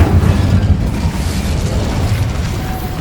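The Incendio fire spell cast in a Harry Potter video game, a loud whooshing, roaring burst of flame sustained over a few seconds, close and steady with no talk.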